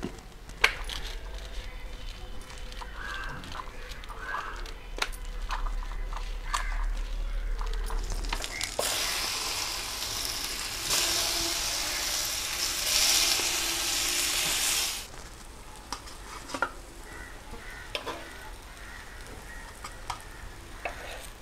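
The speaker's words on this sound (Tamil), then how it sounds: "இன்னைக்கு அன்னாசி பழத்தை வறுத்து சாப்பிட போகிறோம்" Pineapple frying in a pan: a steady sizzle with stirring scrapes, rising to a loud, bright hiss for several seconds midway before settling back to quieter sizzling.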